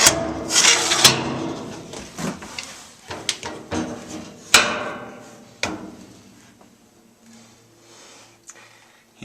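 A homemade wooden drawer is slid and knocked, making a run of close wooden bumps and sliding scrapes that taper off into quieter taps.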